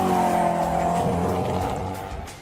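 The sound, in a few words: Koenigsegg hypercar driving fast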